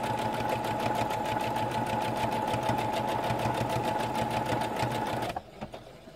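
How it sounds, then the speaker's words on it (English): A sewing machine stitches a gusset into an already assembled shirt, running in one loud, steady, rapid burst for about five seconds before stopping with a few faint clicks. "That's something to pay attention to when you're sewing on a garment that's already together."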